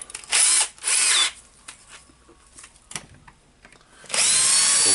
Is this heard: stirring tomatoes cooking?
no